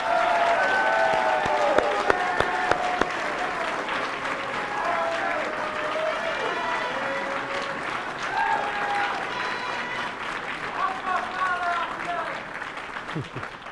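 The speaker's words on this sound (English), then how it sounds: "You can hear the crowd cheer." A crowd applauding and cheering at a historical fencing tournament, steady sustained clapping with scattered shouts, heard from within the hall while an announcer's voice carries over it.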